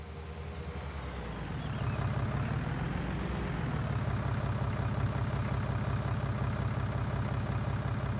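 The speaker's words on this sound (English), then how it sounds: "Oh, there's a tractor." A tractor engine in the Farming Simulator 19 game rumbles steadily, revving up slightly after a couple of seconds and then settling into a loud, even idle with no voices.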